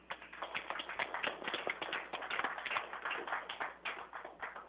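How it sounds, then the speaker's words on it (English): A small group at a middle school gathering claps for a few seconds, distinct individual hand claps close to the microphone in an irregular patter, fairly quiet overall. "let's give Chris a round of applause for his efforts."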